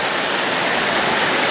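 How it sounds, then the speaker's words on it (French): A small mountain torrent rushes steadily, a loud, close, continuous roar of water with no pauses and no voices. "Petit torrent."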